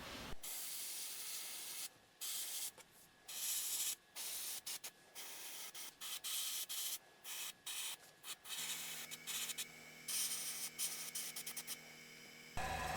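An airbrush sprays red paint onto a resin swimbait lure in short hissing bursts, stopping and starting irregularly, close and fairly quiet, with a steadier faint tone toward the end.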